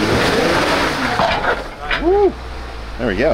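A Jeep engine revs and strains as it climbs a steep rocky step on the corner of a difficult off-road trail, loud and close, with people cheering and talking over it.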